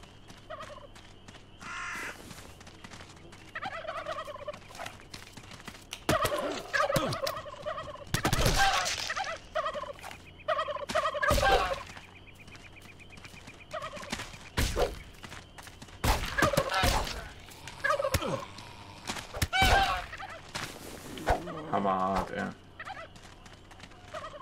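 Turkeys gobbling in the video game How to Survive 2, repeated loud bursts of gobbling and cawing calls mixed with sharp game effects and a few gunshot-like bangs over a low background hum.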